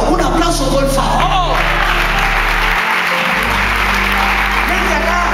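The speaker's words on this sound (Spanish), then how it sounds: "¡Un aplauso, por favor!" Congregation applause at a church service after a healing testimony, dense clapping filling the room with cheering voices and a speaker talking over it, plus a steady low hum.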